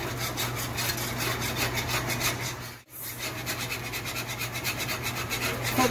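Continuous raspy scraping of leftover seed honey being worked out of a container with a utensil, steady rubbing strokes close up with a brief pause midway, no talking.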